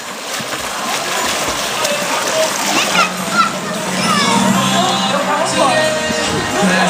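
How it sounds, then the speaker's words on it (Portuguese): Water splashes and sloshes as a person plunges into a pool at a countryside farm in Araçariguama, with steady splashing under excited children's chatter and voices throughout. "Agora eu vou dar um mergulho aqui na raspucha."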